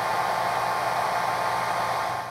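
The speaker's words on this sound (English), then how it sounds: "Grab my hair dryer to dry that first layer pretty well so I could apply a second layer right away" A hair dryer blows at a steady, loud, close roar over a freshly painted layer on a handmade bow prop, its even whoosh running unbroken from start to finish.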